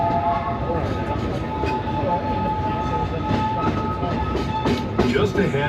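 The Disneyland Railroad train runs steadily with continuous rail rumble and clacking wheels, a faint tonal hum running throughout, and a cluster of sharper clanks near the end; a voice speaks over it.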